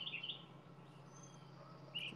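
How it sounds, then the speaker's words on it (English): Birds chirp faintly outdoors, with a few short high calls at the start and another near the end over a quiet, steady background. "You love all the bird sounds."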